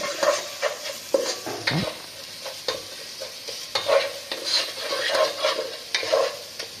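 Spices with turmeric and chili powder are sautéed in a pan for khichuri, with repeated close scraping strokes of a spatula over a light sizzle and an occasional clink of utensil on metal.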